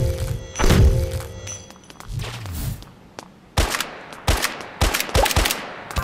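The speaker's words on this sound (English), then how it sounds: "I think when I attack though, it deflects the bullets." Sharp gunfire bursts and heavy thunks ring out in a video game as an attack deflects incoming bullets, the rapid volleys arriving in clusters after a few dull thuds.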